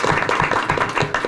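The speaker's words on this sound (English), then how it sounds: "So give a round of applause to" An audience at a school district meeting bursts into a short round of dense, continuous clapping heard up close.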